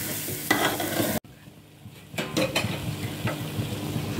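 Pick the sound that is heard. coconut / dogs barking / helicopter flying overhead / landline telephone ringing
coconut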